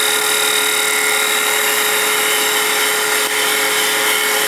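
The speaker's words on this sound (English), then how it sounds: "I rub the bevel, and I raise the handle until it starts to cut" Woodturning lathe with a gouge cutting side grain in facework, bevel rubbing as the tool engages; a steady, dense hiss of cutting runs continuously and loud throughout with a constant high whine, no talking.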